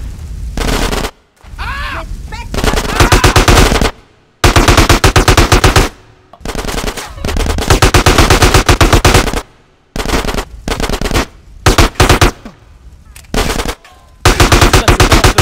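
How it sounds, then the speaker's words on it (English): Loud bursts of automatic machine gun fire from the GTA San Andreas video game, rapid rattling volleys separated by short gaps, with brief game speech between bursts. "Get some suppressing fire in there!"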